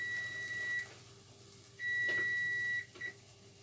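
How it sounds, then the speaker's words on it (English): A kitchen timer beeps in a home kitchen during veggie burger prep, sounding faint, high and electronic in a few steady tones of under a second each, separated by pauses. "timer went off"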